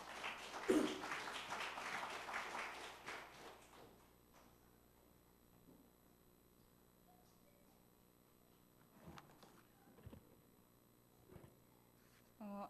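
Church congregation clapping in welcome for a young nurse about to give testimony, several seconds of applause that fades away, followed by quiet room sounds and a few faint knocks.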